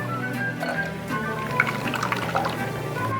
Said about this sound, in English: I'm just going to put it through a strainer, just to make sure there's no impurities or anything left over